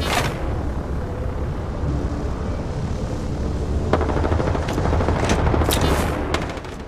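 Rapid gunfire from a hacker's glitching weapon in Apex Legends, sustained bursts of shots and booms over steady game ambience, fairly loud and continuous with a few sharper cracks near the end.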